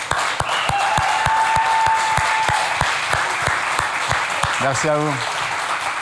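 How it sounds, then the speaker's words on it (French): A church congregation applauds the mothers at a Mother's Day service, with steady, lively clapping and some sharp individual claps. The clapping eases toward the end as a voice speaks briefly over it. "Si on peut applaudir les mamans."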